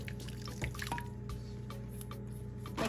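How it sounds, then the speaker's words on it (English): Lemon herb marinade made with lemon juice and dried parsley is poured into a bag, giving soft drips and a faint trickle against a quiet kitchen background. "Mix all this up and pour it in."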